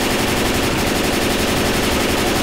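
Rapid automatic gunfire in the zombie shooter game Left 4 Dead 2, a dense continuous burst of loud shots sustained across the whole stretch with no pauses.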